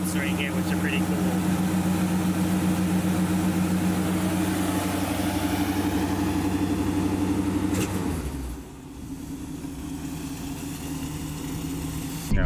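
A 1928 hot rod idles with a steady, throaty exhaust burble for about eight seconds before the engine note drops away, with people talking over it.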